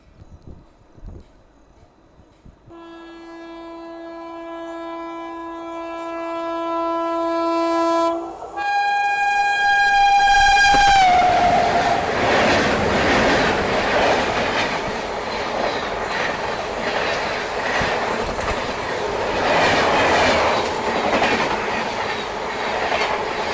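Katni Bhusaval Express passenger train sounding a long loud horn that bends in pitch, then a rising rumble as the coaches get moving, heard up close with steady rolling noise and no talk.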